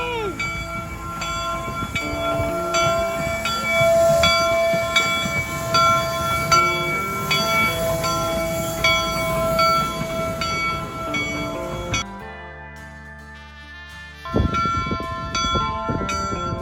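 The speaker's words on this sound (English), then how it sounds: "Today there is a reenactment of each train pulling into this site." Historic steam train pulling into the Golden Spike reenactment site, heavy rumbling rail noise with a ringing bell repeating steadily, then a brief drop before a whistle-like tone and renewed rumble.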